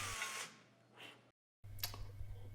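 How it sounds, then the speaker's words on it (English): A power drill whirs in steady bursts while drilling a small pilot hole, briefly cut to silence and then resuming, with a bright metallic edge close to the mic. "take a small drill, about 3/30 seconds, to start a small pilot hole for the next size drill."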